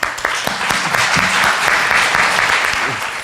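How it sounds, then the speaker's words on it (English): Audience applause for panel members at a telecom industry panel, a short burst of dense clapping from a room full of people, steady then tapering off. "I want to have a round of applause to the panel members"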